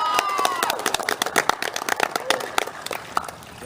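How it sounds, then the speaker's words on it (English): Scattered clapping and cheering voices at an indoor swim class, a short burst of applause and shouts close by with echoing, uneven claps. "let's give Bob a big round of applause"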